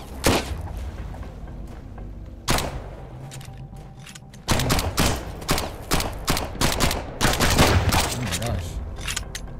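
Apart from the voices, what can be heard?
gunfire in the video game Sunkenland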